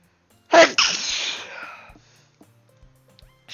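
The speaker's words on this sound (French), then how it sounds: "J'éternuais." A single loud, close sneeze bursts out sharply, then trails into a breathy rush that fades over about a second, followed by near silence.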